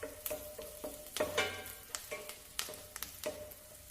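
Garlic and green chillies stir-fried in a pan over medium-low flame for butter garlic fried rice: a soft, steady sizzle broken by rhythmic scraping strokes of a spatula, fairly quiet and close, with no voices.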